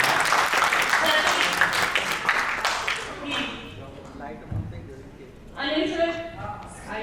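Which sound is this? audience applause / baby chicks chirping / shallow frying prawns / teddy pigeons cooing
audience applause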